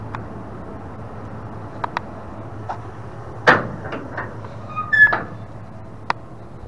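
A car door shuts with a sharp thud in a parking lot, followed by a few faint clicks and knocks, with low engine hum underneath and no talking.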